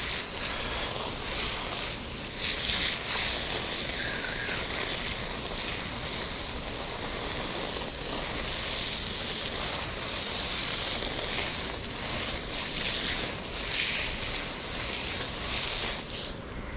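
Water runs steadily over bass fillets as they are rinsed, a loud, close, continuous hissing spray with slight shifts in the flow and no speech.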